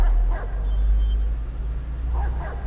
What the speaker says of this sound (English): The dog might be sniffing us out.